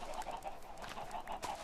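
Chickens in a video game cluck softly, a short quiet run of clucks in close succession with no talking over them.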